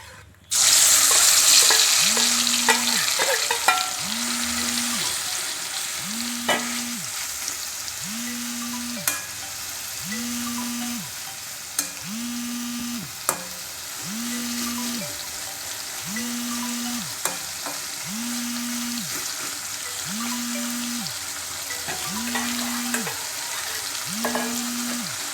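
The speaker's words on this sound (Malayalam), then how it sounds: "ഇനി നമുക്ക് ചെമ്മീനൊന്ന് ചെറുതായിട്ട് ഫ്രൈ ആക്കി എടുക്കാം." Prawns frying in coconut oil for a prawn biryani, a steady loud sizzle running throughout with a regular rhythmic low hum pulsing about every two seconds beneath it, and occasional utensil clicks.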